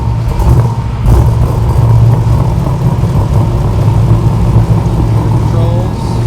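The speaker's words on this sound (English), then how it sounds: "Turn the key one click and ready to start." The carbureted engine of a 1965 Backdraft Cobra starts and runs, a loud, deep, steady rumble close by with brief revs and faint voices in the background.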